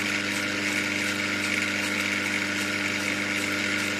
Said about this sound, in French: je vais passer sur la meule d'à côté